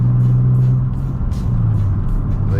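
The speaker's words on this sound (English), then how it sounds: "I really hope my car isn't too loud" Loud, steady engine drone of an Infiniti G35 coupe heard from inside the car, a low throaty rumble holding level with slight pitch shifts.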